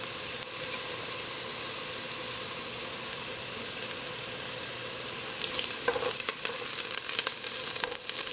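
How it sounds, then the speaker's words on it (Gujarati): Cumin seeds frying with softened onions in a pan for macaroni and corn coconut curry, a loud continuous close sizzle with faint crackles and stirring scrapes toward the end, no talking. "અને ભલે જરાક જીરું તરાય આપણા ડુંગળી સાથે"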